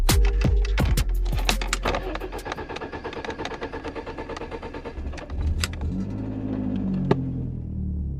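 A BMW E36 1.8iS that has sat since December cranks with rapid clattering turns, then catches and settles into a steady, fairly close idle rumble, with a brief knock near the end.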